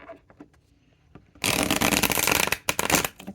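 A deck of tarot cards is riffled and shuffled in a brisk, close flurry of papery slaps and flutters after a second of quiet handling taps, ending in a few scattered card sounds.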